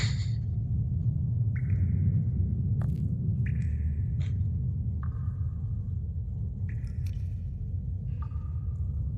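Low, steady storm rumble from the Sherlock Holmes: The Awakened video game fills the background throughout, with scattered faint chimes and tones over it and no talk.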